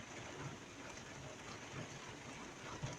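Steady rain falls as a continuous, even hiss of drops at low to moderate level, with no voices.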